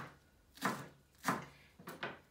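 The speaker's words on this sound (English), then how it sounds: "And slice up your lettuce." Baby gem lettuce being sliced with a kitchen knife on a board: four crisp chopping strokes, the last two coming quickly together, close and clear, with no talking.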